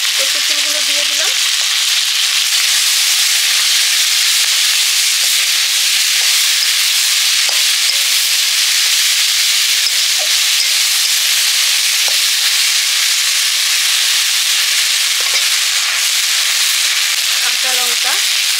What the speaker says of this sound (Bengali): চিংড়ি মাছগুলো ভাজা হয়ে যাওয়ার পরে কচু ফুলগুলো দিয়ে দিলাম।